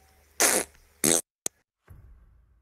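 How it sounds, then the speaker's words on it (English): Fart noises made over voice chat during a Rainbow Six Siege game: two loud, buzzy bursts about half a second apart, a sharp click, then a fainter low rumble, with no talking. "Do the fart noise."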